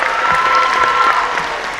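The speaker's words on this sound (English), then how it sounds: "give them a quick round of applause" Brief round of applause from the crowd at a high school signing day ceremony, a loud, steady patter of many hands clapping throughout with a faint voice or two beneath.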